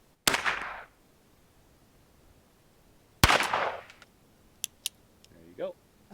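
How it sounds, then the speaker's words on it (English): A lever-action .22 rifle fires two sharp, loud shots a few seconds apart at a ranch rifle range, each followed by a brief decaying echo, then a few faint clicks and a short voice. "where you can learn to shoot a lever action .22."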